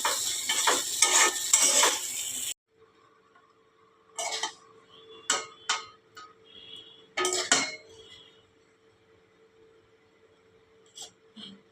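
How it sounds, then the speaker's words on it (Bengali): Pasta is stirred in a pan with a few intermittent scrapes and clinks of a utensil, each followed by quiet pauses, after a noisier opening burst of kitchen clatter. "ভালো করে নাড়াচাড়া করে নেবো"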